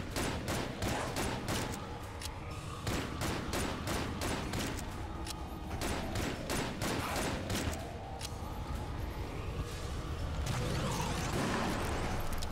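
Rapid, dense volleys of black hole gun shots in the video game Enter the Gungeon, continuous loud gunfire bursts with crashing impacts throughout, a layered and relentless barrage.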